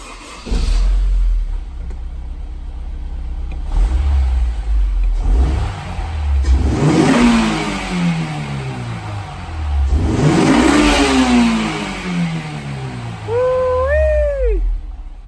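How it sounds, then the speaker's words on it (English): A wrecked Honda S2000's engine cranks and fires up, then revs hard twice in rising, falling sweeps, ending with a short high squeal. "Engine start."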